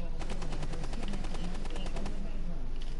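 Rapid automatic gunfire from a Rainbow Six Siege match rattles on steadily for about three seconds, a dense stream of shots under faint voices.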